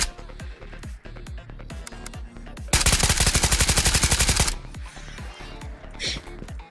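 Automatic AK5C rifle fire in the Ghost of Tabor VR shooter: a sustained, loud burst of rapid, evenly spaced shots lasting nearly two seconds, framed by softer scattered clicks and handling noises.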